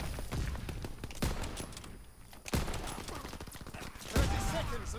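A ZK-383 submachine gun fires in Call of Duty WW2 as dense, rapid bursts of gunfire run almost without a break, punctuated by sharper cracks.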